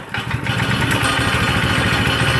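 A never-before-started 212cc engine fitted with a CVT on an old Tractor Supply mini bike idles loudly and close, a steady rough putter that settles after a brief start.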